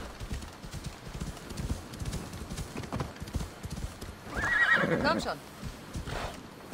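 Horse neighing and clip-clop hooves from the video game Assassin's Creed Odyssey, a pony ridden along a beach, with steady hoofbeats and a loud whinny midway while someone talks over it.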